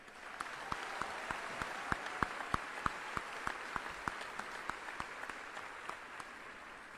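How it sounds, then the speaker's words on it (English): A crowd at an Army basic training graduation ceremony at Fort Jackson applauds for the Army band, a broad wash of clapping with distinct individual claps popping out in a rapid, uneven pattern, steady and moderately distant throughout. "Can you please join me in a round of applause for this great band?"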